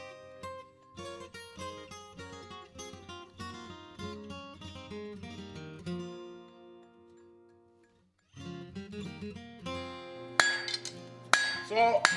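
A blacksmith hammers 1/4 by 1 inch steel flat bar at the anvil, half on and half off the edge, forging a cauldron trammel. Rapid ringing metallic blows give way to a short quiet pause, then sharper, louder strikes resume.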